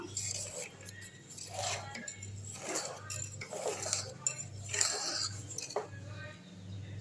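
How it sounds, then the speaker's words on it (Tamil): A knife scrapes and clinks around the rim of a dish to loosen cooled homemade seempal (colostrum milk pudding), with soft intermittent metallic taps and scrapes at close range over a low background hum. "கத்தியில் வந்து சுற்றி இப்படி எடுத்து விட்டுடலாம்."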